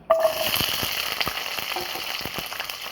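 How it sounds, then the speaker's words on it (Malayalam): Shallots crackle and sizzle in hot oil, a dense steady frying hiss with small pops, starting abruptly and continuing without any voices. "ഓയിൽ ചൂടായി നമുക്കതിലേക്ക് ചെറിയ ഉള്ളി ഇട്ട് കൊടുക്കാം"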